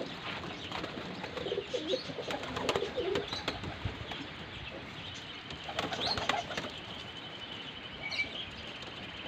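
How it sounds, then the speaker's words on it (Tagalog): Pigeons take off together in windy open air, with bursts of flapping wings and faint cooing over a gusty, rustling background and no voices. "Nagsiliparan silang lahat."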